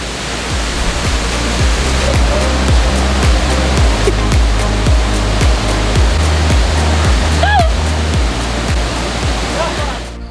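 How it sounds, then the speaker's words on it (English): The Escalera waterfall in Jardín, Colombia, during the rainy season, a loud, close and constant roar of falling water with a faint voice briefly heard beneath it. "of the waterfall Escalera in Jardin, Colombia"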